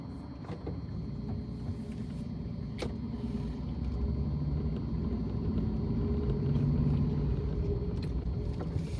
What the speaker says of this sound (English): A lot of cars. Busy.